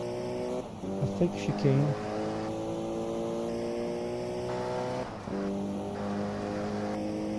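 Race car engine in GT Legends at full throttle, a near, steady rising whine through gears with brief tire squeals and a gear change, while someone talks over it.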